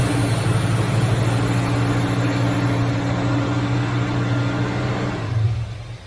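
An Oldsmobile Cutlass convertible's engine, freshly revived, holds a loud, steady raised rev close by, droning evenly with no talk before it eases off and drops away near the end, outdoors on a rainy day.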